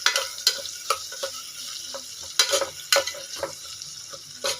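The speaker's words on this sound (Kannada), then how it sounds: "ಹಾಗಾಗಿ ಈರುಳ್ಳಿ ಹಾಕ್ಕೊಂಡಿದ್ದೀನಿ. ಇದನ್ನು ಸ್ವಲ್ಪ ಬ್ರೌನ್ ಆಗೋ ಮಟ್ಟ ಫ್ರೈ ಮಾಡ್ಕೊಳ್ಳೋಣ." Onions frying in a pan with garam masala, a steady sizzle broken by repeated scrapes and stirs of a spoon against the pan, close and fairly loud with no talking.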